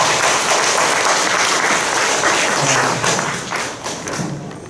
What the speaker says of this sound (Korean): 다시 한번 강명도 교수님께 박수로 드리겠습니다